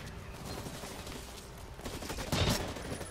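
Gunfire in the shooter game Blacklight: Retribution, a rapid burst of rifle-like shots with a louder cluster near the end, sharp and close over a busy game soundscape.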